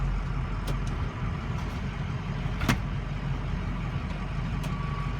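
A 2006 Ford F550 truck drives slowly in four-low, its engine giving a steady, close, low rumble throughout with a couple of faint clicks and knocks.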